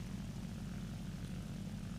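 Focke-Wulf 190 F-8 fighter climbing in War Thunder, with a steady low propeller-engine drone that stays constant and quiet throughout and no talking.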